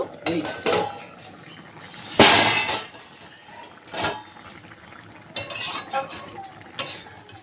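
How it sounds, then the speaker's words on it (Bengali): A metal plate used as a lid is set onto and lifted off a pan of vegetables cooking in turmeric, giving several sharp clanks and scrapes with one loud clattering burst, and someone talks between them. "এবার একটা থালা দিয়ে ঢাকা দিয়ে দেব কিছু সময় ঢাকা দিয়ে রান্না করে নেবো ঢাকনাটা আবার তুলে নেব"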